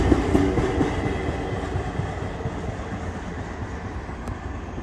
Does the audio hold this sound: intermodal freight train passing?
yes